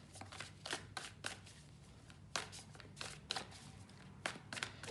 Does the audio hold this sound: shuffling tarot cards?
yes